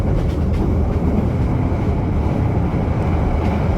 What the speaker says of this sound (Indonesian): ini keretanya cukup ngebut ya, walaupun cuma 100 km per jam rasanya cukup ngebut nih